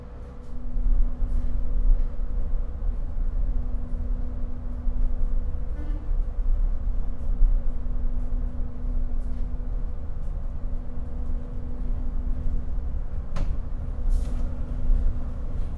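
The Ijen Express passenger train runs with a steady low rumble and a constant hum, heard from on board, with a faint tonal whine and a sharp clank near the end.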